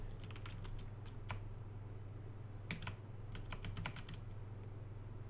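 Quiet keystrokes on a computer keyboard as a terminal command is typed on a Linux system, scattered clusters of taps with pauses between them over a steady low hum.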